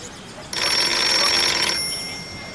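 A telephone in a French drama scene gives one loud, sustained bright ring lasting just over a second, then fades into a soft tail, alone with no talk.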